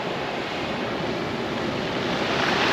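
Ocean waves at a beach during a fishing match, a steady close wash of surf with wind buffeting the microphone, swelling slightly louder toward the end, with no voices.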